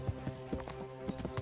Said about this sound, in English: I think this is somebody else's horse.